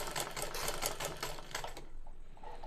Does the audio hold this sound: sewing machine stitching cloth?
yes